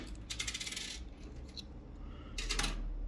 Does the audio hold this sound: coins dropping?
yes